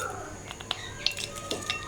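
A spoon clinking against a cooking pot while salt is added to a mutton korma, several light metallic taps spread over a couple of seconds, faint and close.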